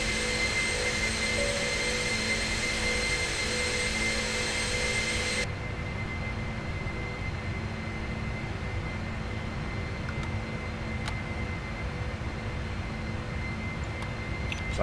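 A jet airliner in a flight simulator roars steadily through its takeoff, a constant broadband engine rush that holds for the whole stretch, shifts tone partway through and carries on with no talking.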